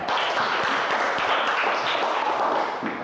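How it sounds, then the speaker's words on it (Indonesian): Classroom applause for a student discussion group, dense steady clapping from many hands held at an even level throughout. "Kita beri tepuk tangan dulu"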